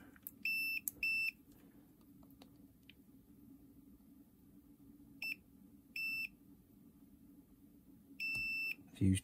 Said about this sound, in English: Set it to beeps.